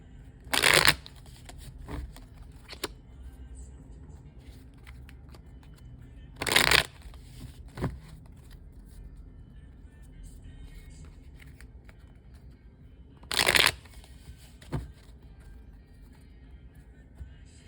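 Tarot cards are shuffled in three short, crisp bursts spaced several seconds apart, with a quiet room and faint small handling noises in between.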